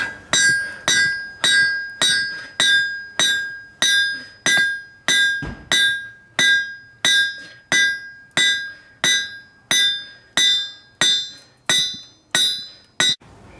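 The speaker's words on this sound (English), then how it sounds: "I just want you to see what happens to the steel with a big heavy hammer." A heavy 4-pound hammer strikes a steel anvil during anvil repair, ringing out in a steady series of about twenty loud, bright metallic blows, each with a sharp clang and short ring, evenly spaced and close.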